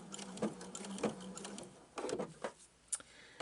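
A sewing machine stitches a knot stitch while binding a quilt edge, giving short bursts of mechanical whirring and clicking with brief pauses between them, close and moderately loud.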